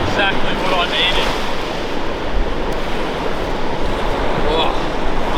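Ocean waves wash onto a beach on Moreton Island, a steady broadband rush of surf with wind buffeting the microphone, loud and continuous throughout.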